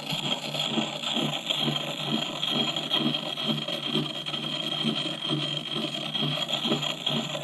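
Hand file sharpening the cheek of an old hatchet head, close rhythmic rasping strokes repeated at a steady pace, about two per second, under a faint background hiss.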